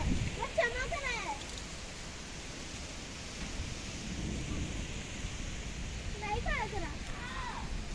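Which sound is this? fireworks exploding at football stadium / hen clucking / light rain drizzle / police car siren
light rain drizzle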